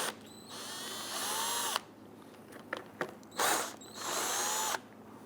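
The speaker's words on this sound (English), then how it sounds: "We're going to use our socket and impact driver." An impact driver with a socket spins out 10mm bolts on the upper fender of a 2008-2013 Infiniti G37, two long loud whirring bursts separated by a pause with small clicks and clanks.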